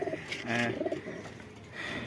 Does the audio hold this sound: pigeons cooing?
yes